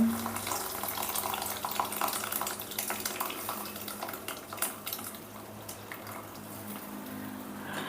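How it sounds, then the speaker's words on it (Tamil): Water splashes and trickles into a pot of wilted greens amid clinking of metal cookware, steady and close, with no voices. "கொஞ்சம் தண்ணி ஏற்றி விட்டுட்டு"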